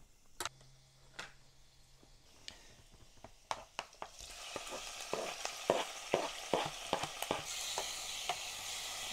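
Garlic hitting the oil in a Denzin 2L electric hot pot, with a faint low hum before a soft sizzle rises midway, broken by sharp clicks and taps of a utensil against the pot.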